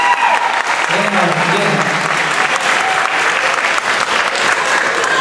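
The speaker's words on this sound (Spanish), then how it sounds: "Aplausos para él. Bien, aplausos." An audience claps steadily and loudly throughout at evening entertainment in a hotel during a couples contest, continuous applause with a host's voice briefly over it.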